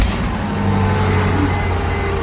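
Sunroof motor on a 2008 Mercedes G 500 hums steadily up close, with a low mechanical drone running under the whole short stretch and no talking.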